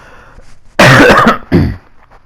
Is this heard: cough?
yes